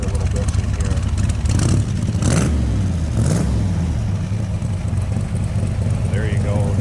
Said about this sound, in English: Get him to rev it up there a little bit so you can hear it.